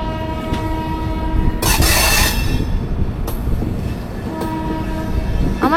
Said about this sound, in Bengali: বাপ রে, ট্রেনের কি সাউন্ড!